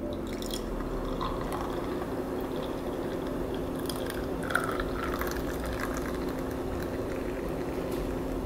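Chubby Unicorn beer pouring and fizzing into a glass, a soft continuous trickle with bubbly crackle, steady and close over a low background hum.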